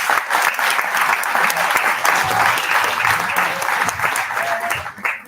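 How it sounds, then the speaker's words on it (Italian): Audience applause at an Italian political candidacy presentation evening, a dense, steady crowd clapping that holds loud throughout and thins slightly at the end. "vi invito anche a farmi un applauso"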